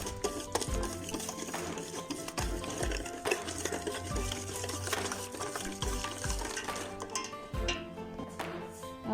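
A spoon stirs ghee through a thick mixture of milk, sugar and semolina with a steady scraping rhythm, broken by regular soft thumps and light clinks against the pan, close and fairly quiet.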